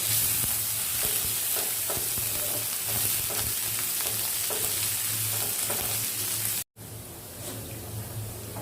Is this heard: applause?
no